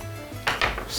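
A kitchen knife blade pressing and crushing two garlic cloves, then chopping them, a few sharp crunching thuds and scraping taps against a cutting board, close and alone.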